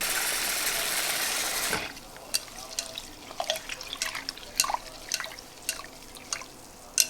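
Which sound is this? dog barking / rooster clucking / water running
water running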